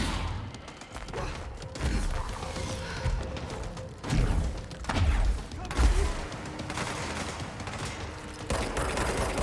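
Gunfire during a boss fight in the video game Control, with bursts of loud shots and heavy thumps that rise and fall in waves over a continuous bed of game noise.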